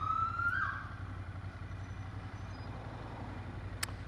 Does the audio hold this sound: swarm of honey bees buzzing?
no